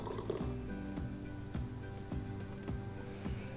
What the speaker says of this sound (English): We're going to pour it into our serving dish.